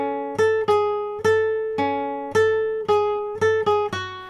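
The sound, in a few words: A guitar melody played without bass notes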